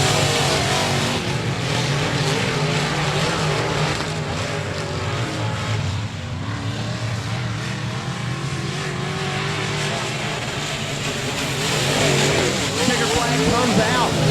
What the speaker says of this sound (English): And Drew Armstrong battling for position here in your modified heat race number 1.